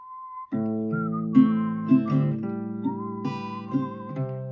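A melody is whistled clearly over strummed guitar chords, the whistled line wavering between a few sustained notes, close and steady.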